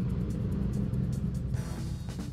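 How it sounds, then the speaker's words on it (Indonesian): An Ayla Turbo car engine with a racing exhaust idles with a deep, throaty burble, a steady low rumble close by with no talking. "tapi memang ini mobil sudah pakai knalpot racing ya, jadi suara knalpotnya memang kenceng."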